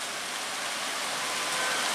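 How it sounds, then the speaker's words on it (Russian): Dense, steady rain hisses without a break, a loud, even wash of water close by. "Дождь, да, сильный дождь."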